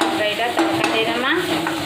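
Dal tadka sizzling in hot oil with cumin and coriander in a home kitchen, stirred steadily for a couple of seconds; a close, continuous crackle and hiss with scraping from the stirring and no talk.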